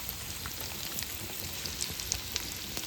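Egg and potato frying in oil in a pan, a steady soft sizzle with scattered crackles and pops, close by and fairly quiet, with no talking.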